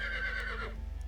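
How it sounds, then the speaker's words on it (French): A horse in a video game whinnies in a bright, drawn-out call that fades near the end, over a steady low background rumble. "j'ai entendu un cheval hennir"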